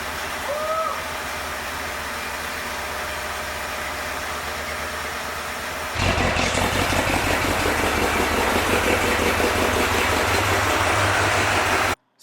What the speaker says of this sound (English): So as you can hear, this is going to be quite the engine in this little Jeep.